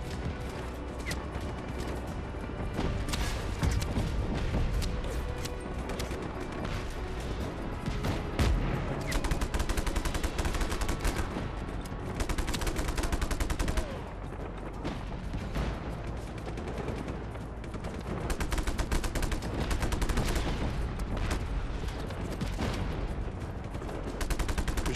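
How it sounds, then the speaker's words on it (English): Sustained heavy gunfire in the Just Cause 3 video game, dense machine-gun bursts and rapid shots aimed at the player, loud and continuous throughout with brief lulls and renewed volleys. "Shooting at me."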